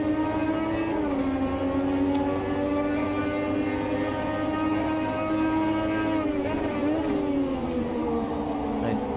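A 1300-horsepower F1 car engine in a racing video game holds a steady, loud, high-pitched whine throughout, with the pitch shifting slightly as it runs through gears and corners.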